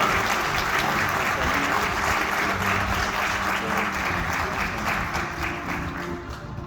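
An awards-ceremony crowd applauds loudly and continuously, steady dense clapping that fades slightly toward the end.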